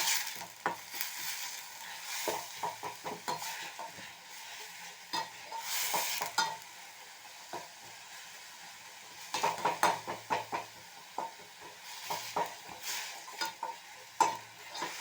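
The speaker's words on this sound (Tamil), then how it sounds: "இஞ்சி பூண்டும் ஆனியனும் நல்லா வதங்குற வரைக்கும் வதக்கிடுக்கணும்." Ginger, garlic and onion sauté in a pan for a paneer gravy, a low sizzle broken by repeated scraping and clacking strokes of a spoon stirring against the metal, close and uneven in rhythm.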